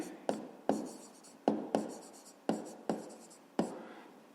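Pen strokes on paper in a fifth-grade maths exercise book, a series of about eight distinct scratchy bursts in an uneven rhythm, close and quiet with no voice over them.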